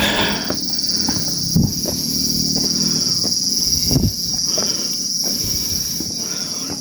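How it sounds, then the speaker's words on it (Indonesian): Cicadas on a mountainside during a hike on Mount Muria, a loud continuous high-pitched buzzing drone that runs throughout, with a few faint thumps and rustles beneath it. "Tonggeret."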